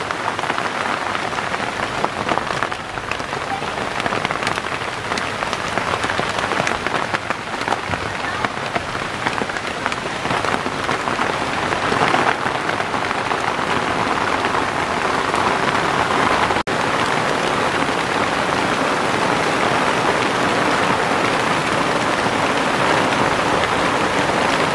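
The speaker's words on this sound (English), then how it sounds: "So it started raining." Heavy rain pours steadily and loudly onto a surface, a dense unbroken hiss with no pauses throughout.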